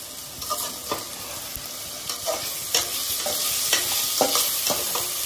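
Garlic and diced potatoes fry crisp in a pan, a steady sizzle under the repeated scrape and clatter of a spoon stirring them at a close, moderate level.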